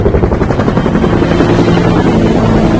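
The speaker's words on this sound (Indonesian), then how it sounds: "tiba-tiba 2 helikopter FBI datang" An FBI helicopter in a film drones continuously with rhythmic rotor chopping, loud and fairly near.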